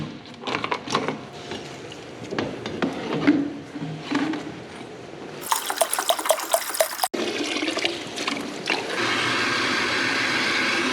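Water from a hose fills a jerrycan inside a garage in deep-freeze winter, starting with irregular splashes and gurgles, then a bright rushing burst, and ending in a steady, close, hissing flow.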